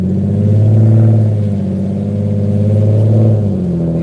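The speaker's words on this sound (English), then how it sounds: "Oh, this car's gonna be loud." A car accelerates hard with a loud, steady low engine roar and rising revs that hold for about four seconds, heard from inside during a food delivery ride along.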